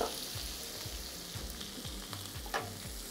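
Two finely chopped onions frying in a pan for mutton brain fry, a steady close sizzle with faint scraping of stirring and no voices.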